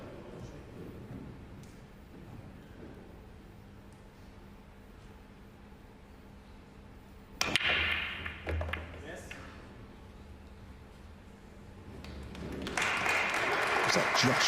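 A 2024 World Pool Masters final crowd breaks into applause midway, a burst of clapping that fades and then returns near the end, over low commentary and room murmur.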